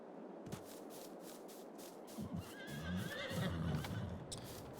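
A horse in the farming game Farm Sim 22 whinnies in a rising, wavering call near the middle of the clip, with soft hoof clip-clops and faint stable ambience around it.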